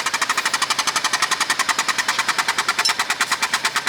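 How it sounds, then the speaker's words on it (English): A foot-operated tyre bead breaker runs in a workshop, giving a rapid, even series of loud pneumatic thumps, about eight per second, continuing without pause. "Dan just putting the bead breaker in now. Foot operated."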